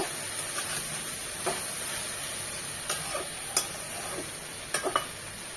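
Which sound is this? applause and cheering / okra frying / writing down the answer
okra frying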